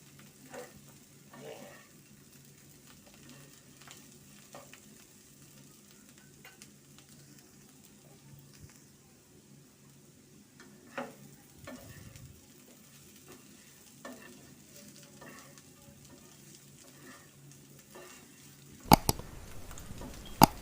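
Bitter gourd and potato pieces fry gently in a pan, a soft steady sizzle broken by repeated scraping stirs, with a sharper louder clatter of the spatula near the end.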